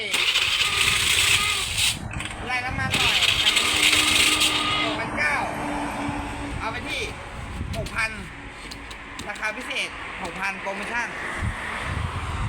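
A used motorcycle engine cranks, starts and runs nearby with a steady, puttering idle and a few revs, while someone talks over it.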